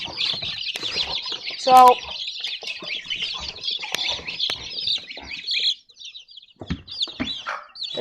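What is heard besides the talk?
baby chicks chirping and clucking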